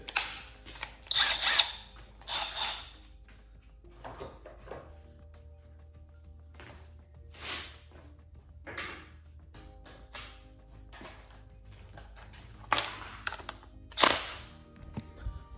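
A Milwaukee M12 Fuel 3/8-inch cordless impact wrench fitted with a larger battery hammers at a lug nut in several short, loud rattling bursts separated by pauses, with no talking.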